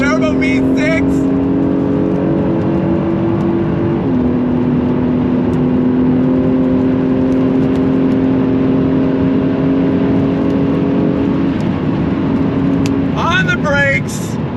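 A 2022 Acura NSX Type S twin-turbo V6 engine drones loudly at a steady pitch, dropping once as if shifting gear, with a voice briefly heard at the start and end.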